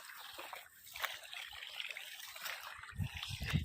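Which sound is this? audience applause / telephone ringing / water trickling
water trickling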